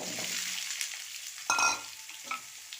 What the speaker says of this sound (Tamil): இப்போ பூசணிக்காய் சேர்த்துடலாம்